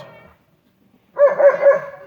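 Dogs bark in snow during a storm, a brief quiet pause followed by a loud burst of several close, rapid barks.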